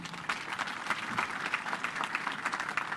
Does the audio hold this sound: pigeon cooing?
no